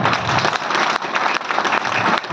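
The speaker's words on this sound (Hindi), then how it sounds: "मैं चाहता हूँ इस प्रोडक्ट के लिए एक बार जोरदार तालियां बजाएं।" Loud, dense audience applause fills the hall at a wellness product presentation, steady clapping throughout with brief dips, no speech.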